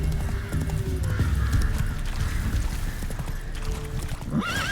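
Hooves of the horse Roach in The Witcher 3 clip-clop steadily through the whole stretch, with a short whinny near the end, all at a fairly even, close level.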